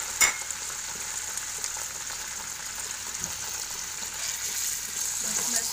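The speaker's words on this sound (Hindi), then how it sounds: "मैं इसमें हल्के से बस पनीर को फ्राई कर रही हूँ" Paneer cubes fry lightly in a pan at home while shahi paneer is being made, giving a steady, close hiss of oil with soft crackle and a few brief stirring clicks, with no talk.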